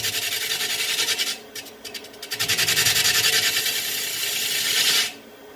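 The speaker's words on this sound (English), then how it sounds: "I will sand the bowl because I'm satisfied with the shape, and I'll begin sanding the rim." A pine bowl is sanded on a woodturning lathe, starting at the rim, giving a loud, continuous raspy hiss that briefly breaks off and then resumes before stopping near the end.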